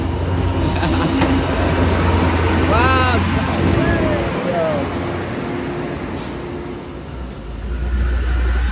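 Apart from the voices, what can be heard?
crude palm oil (CPO) truck driving on road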